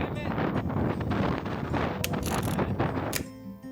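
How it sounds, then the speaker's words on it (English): Strong wind buffets the microphone at Hirakubozaki lighthouse on a remote Japanese island, a dense continuous rushing roar with gusty swells and a few sharp knocks, easing slightly at the end. "the wind was really strong"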